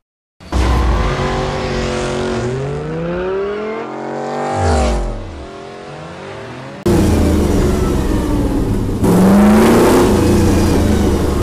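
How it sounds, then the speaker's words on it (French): Fast and Furious style performance cars roar and rev hard with rising and falling engine pitch, gear changes, passes and tire squeal, loud and continuous, layered like a racing soundtrack with no voices. "je vais vous faire écouter un petit fond sonore des voitures"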